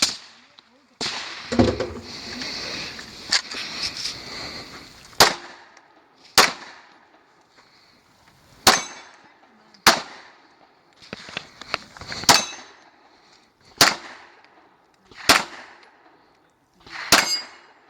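Gunfire on a nighttime shooting stage sends shots clanging off steel targets: a dense cluster of hits early on, then about eight sharp, ringing impacts at fairly even intervals.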